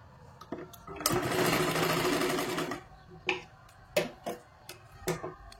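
Sewing machine stitching a katori blouse, running in one steady burst of about two seconds, followed by several short clicks and taps from handling the fabric.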